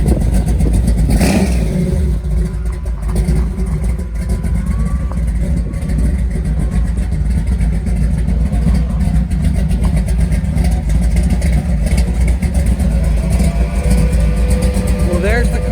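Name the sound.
1937 Ford Tudor De Luxe engine revving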